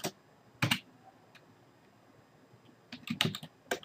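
Computer keyboard keys clicking in short clusters, a few quick taps, a pause, then another brief burst of typing, close and fairly quiet with no talk.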